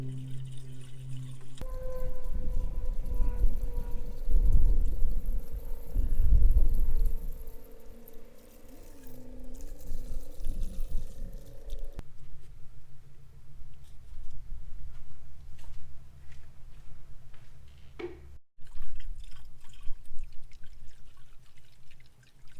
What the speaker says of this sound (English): When adding coolant to the car, it's very important to make sure that you add it slowly to allow any air bubbles to kind of come out